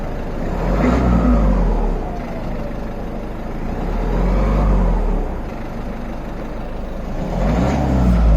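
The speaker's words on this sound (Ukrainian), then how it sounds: "Ось можна послухати звук двигуна." A Peugeot 508 1.6 HDi diesel engine (DV6C) runs steadily nearby after injector coding, its rumble rising and falling in slow surges as if being gently revved, with no talking.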